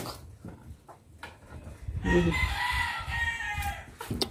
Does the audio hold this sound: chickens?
yes